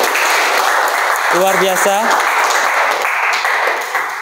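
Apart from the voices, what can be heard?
students applauding in class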